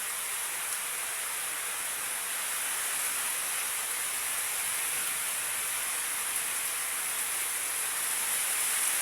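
Steady rain falls at a work site, a constant, even hiss of dense drops that stays unchanged throughout with no voices.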